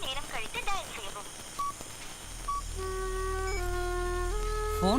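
Telephone number dialled on a handset: a short series of distinct keypad tones, then a steady multi-tone line signal, following brief talk at the start.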